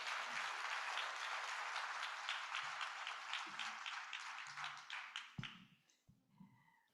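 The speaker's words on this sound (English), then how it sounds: "Let's clap it up." Audience applause at a democracy summit welcoming a foundation CEO to the stage, a dense sustained clapping that thins out and fades near the end, with a few low thumps and a voice starting.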